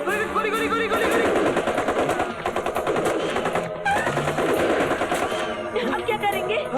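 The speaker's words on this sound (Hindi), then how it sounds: "अरे helicopter, helicopter. Oh my God, गोली चला रही" Rapid machine gun fire from a helicopter, dense bursts of gunshots running almost continuously at close range, loud and busy, with shouting voices and music mixed in.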